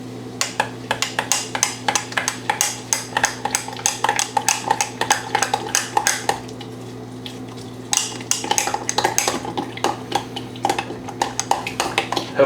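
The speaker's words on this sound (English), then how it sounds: "Go ahead and stir that first cup in there." A spoon clacks repeatedly against a bowl while stirring a thick mixture for peanut butter pumpkin oat cups, a loud, close, irregular scraping and tapping rhythm with a brief pause midway.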